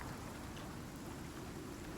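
Steady rain in the survival game Icarus, a continuous soft hiss of falling drops spread evenly across the clip, fairly quiet and with no voices over it.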